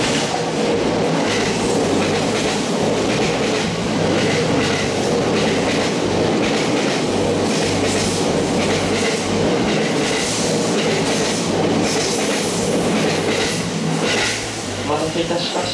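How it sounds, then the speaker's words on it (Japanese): Express train rushing past a stopped commuter train on a Japanese railway line near Sagamiko station, with loud rolling wheel clatter and rumble sustained throughout, some squeal, and voices faintly under the noise. "特急が間もなく通過するので停車してます。"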